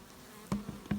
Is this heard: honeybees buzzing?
yes